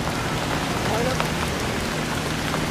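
Rain beginning to fall during a motorcycle ride in the Philippines, a steady broadband hiss of drops that stays constant and fairly loud throughout, with faint traffic or engine rumble underneath.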